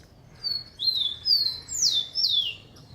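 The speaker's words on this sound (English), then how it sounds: "I'm not talking about that bird right there. It's chirping." A bird chirps outdoors in Florianópolis, southern Brazil: a series of about five clear, sweeping high tweets spaced roughly half a second apart over quiet background hiss, near and fairly loud.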